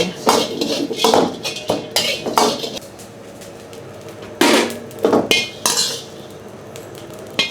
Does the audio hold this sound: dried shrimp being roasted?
yes